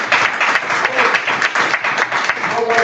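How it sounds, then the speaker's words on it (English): A workshop audience claps in a steady, dense round of applause that fills the whole stretch at close range, with voices mixed in underneath. "This is a general round of applause."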